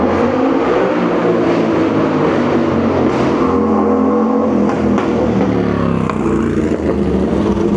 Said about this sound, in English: It's either going to be, a supercar of some kind, or obviously, as you just saw, a super high-powered motorbike.